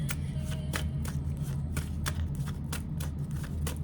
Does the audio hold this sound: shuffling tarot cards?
yes